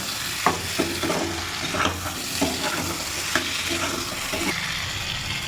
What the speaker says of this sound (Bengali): খুব ভালো করে কষিয়ে নেব।